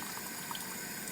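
Water poured over a metal plate and sheeting off it, a brief steady wash of splashing liquid heard up close with no talk.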